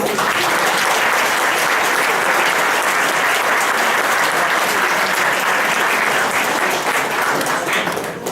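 A large audience at a conference dinner applauds steadily, a dense wash of clapping that holds strong throughout and eases slightly at the end.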